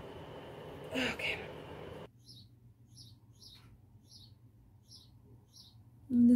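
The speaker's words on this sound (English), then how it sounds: "These birds won't shut up." Small birds chirping outdoors on a hot day, a series of short, evenly spaced high chirps ringing out after a voice speaks briefly, with another sound starting at the very end.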